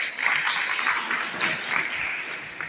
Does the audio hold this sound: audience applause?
yes